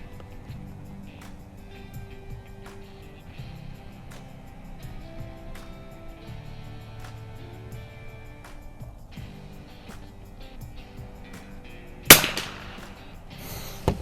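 Weihrauch HW660m .22 LR bolt-action target rifle fired at an outdoor range: one sharp, loud crack near the end, with a short rattle after it and low background noise before.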